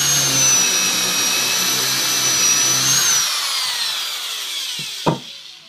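A power drill bores into a wooden support beam of an outdoor table, a loud steady whine for about three seconds that spins down and fades, followed by a sharp knock.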